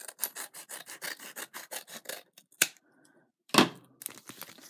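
Scissors cutting off excess comic-book paper while making a wallet: a quick run of close, crisp rhythmic snips, then a pause, a single sharp cut and a few more snips.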